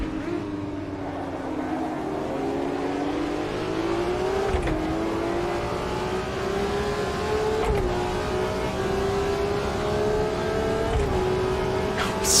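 Race car engine roaring around Daytona in the racing game Automobilista 2, a loud sustained tone rising through the gears with brief dips at each shift, heard on its own without talk.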